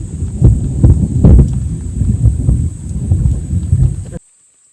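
Loud thunder rolls through a forest during rain camping, a low, heavy rumble swelling and fading over several seconds amid steady rain noise before cutting off abruptly.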